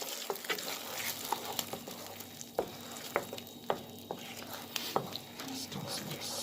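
Pork chops with soy sauce being stirred in a hot pan give a steady close sizzle with scattered scraping clicks of the utensil throughout.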